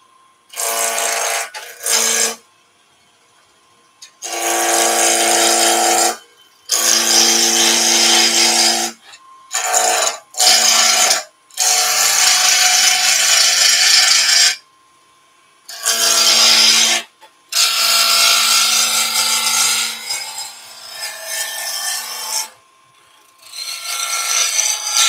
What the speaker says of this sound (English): So lathe speed zero, turn the lathe on. Just going to rough out the corners first.